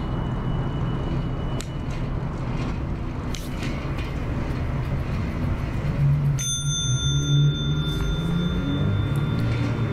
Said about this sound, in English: just did a little bell ring, make sure everybody knows I'm coming